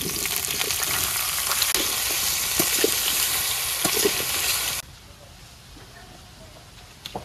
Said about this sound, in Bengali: এই কড়াইতেও তেল দিয়ে দিলাম, এটার মধ্যে ফুলকপি ভাজুন